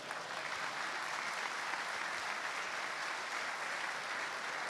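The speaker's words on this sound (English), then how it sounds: "We can give them a round of applause now." Steady audience applause at a football club's players' awards ceremony, a dense, even wash of clapping from a large indoor crowd that holds at constant volume throughout with no voices standing out.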